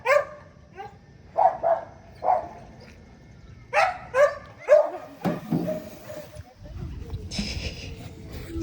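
Several dogs bark out in the woods in short bursts of two or three barks with pauses between, fairly close, and a few voices talk near the end.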